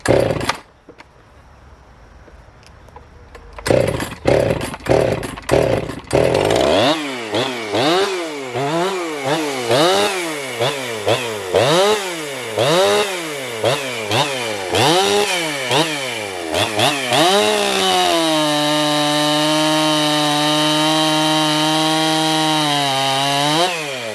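A Husqvarna 257 chainsaw with a ported cylinder sputters through a few short bursts, then revs hard in repeated rising and falling sweeps before settling into a loud, steady high-pitched run, close by with no talk.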